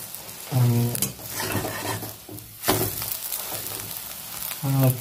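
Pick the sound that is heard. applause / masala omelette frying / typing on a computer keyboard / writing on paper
masala omelette frying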